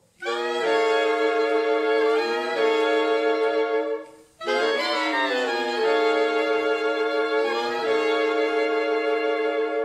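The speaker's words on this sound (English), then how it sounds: "this is the sound of the saxophone section altogether" A youth jazz orchestra's saxophone section plays sustained chords together in close harmony, live, with a brief pause midway before the ensemble resumes with sliding, swelling notes.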